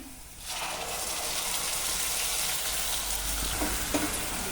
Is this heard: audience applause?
no